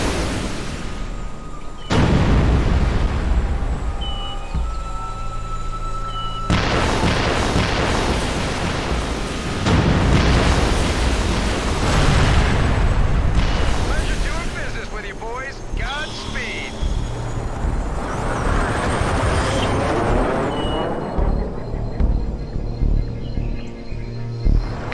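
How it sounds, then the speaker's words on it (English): An air strike in the video game Haze drops a string of bombs, setting off repeated heavy explosions with deep rumbling booms and lingering roar, each blast loud and close, with gunfire and battle noise layered in between. "Bombs free."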